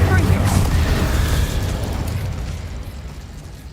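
Incendio fire spell from Hogwarts Legacy, cast in a fight against Ranrock's loyalists: a loud, close whooshing burst of flame with a deep rumbling body that slowly fades.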